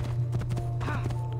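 Horse hooves clip-clop steadily in the video game Assassin's Creed 2, a quick regular gallop over a continuous low game drone, with a faint whinny-like sweep partway through.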